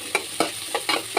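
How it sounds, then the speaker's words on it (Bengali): Potatoes frying in hot oil are stirred in a quick, uneven rhythm, with about five close scraping strokes over a soft, continuous sizzle. "আলু দিয়ে এটাকে আবার তেলের মধ্যে ভেজে নিচ্ছি"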